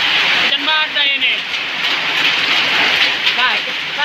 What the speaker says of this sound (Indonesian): Hujan es batu, bro.